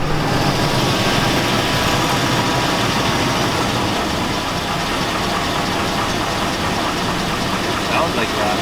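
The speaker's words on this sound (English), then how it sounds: "I think it is rod knock." A 2002 Chevy Avalanche with a 5.3L engine idles steadily with rod knock, a loud, continuous rumble close by, while someone talks over it.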